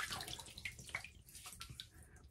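Faint splashing and dripping water as a face is wetted at a sink before a shave, soft trickles and small splashes running continuously at low level, with no voices.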